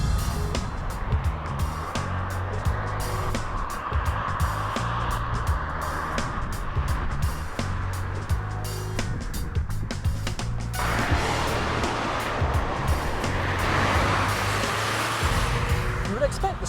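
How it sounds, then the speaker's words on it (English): A Volkswagen Group hot hatch's multi-valve engine thrums steadily from inside the car while driving, its note shifting partway through as revs change, with someone talking over it throughout. "The engine sounds like something from a hot hatch with a multi-valve thrum as the revs rise."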